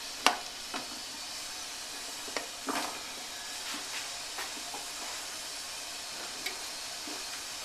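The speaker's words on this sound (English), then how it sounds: "which has been heating, so it's now gently boiling" Soft, steady hiss of water gently boiling in a canner for canning carrots, with scattered faint pops and light jar clinks breaking the constant bubbling.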